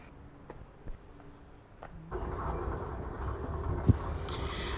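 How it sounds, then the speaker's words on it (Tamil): Interior of a train in Chennai, heading toward Chengalpattu: a steady loud rolling rumble builds after a quiet start, with scattered knocks and a sharp clunk near the end, and no talking. "ஒரு வழியாக ட்ரெயினில் ஏறிட்டேன்."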